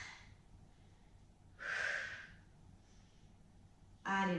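Heavy breathing during a bodyweight strengthening workout: two sharp, forceful breaths about two seconds apart, close and fairly loud over a quiet background.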